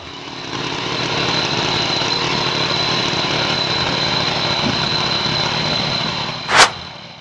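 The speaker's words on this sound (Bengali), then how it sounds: "মাত্র ১ লিটার তেলে ৩ থেকে ৪ বিঘা জমি চাষ করুন এই মেশিনে।" A farm tilling machine's small engine runs at a steady, rough idle, loud and close throughout, ending with a short sharp clatter.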